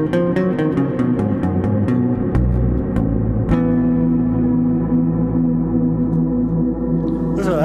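Plucked bass notes ring through a lush reverb, a quick run of picked notes followed by long, washing sustained tones that shimmer and decay.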